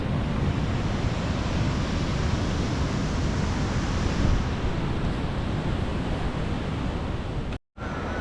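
Waves on a beach in Da Nang, Vietnam, a loud, continuous surf roar with wind buffeting the microphone and a brief dropout near the end.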